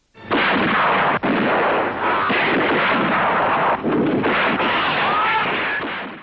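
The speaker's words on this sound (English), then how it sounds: "the following scene of three Batmen in a gunfight with an army of Israelis" Gunfight scene from the film International Guerillas, with dense continuous gunfire and explosive blasts filling the whole stretch loudly, over a roaring, smoky battle din with no pauses.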